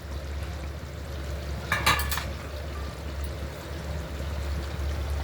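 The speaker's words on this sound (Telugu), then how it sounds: "ఇప్పుడు దీనిలో రైస్ వేసుకుందాం" Basmati rice tipped into a pot of cooking chicken for biryani, heard as one brief rattling, pouring burst midway over a steady low burner hum, with no talking.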